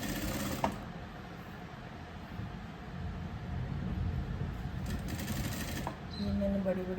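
A sewing machine stitching a padded blouse with long tacking stitches, running as a steady close whir that briefly slows, while someone talks over it.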